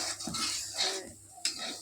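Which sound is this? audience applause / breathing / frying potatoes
frying potatoes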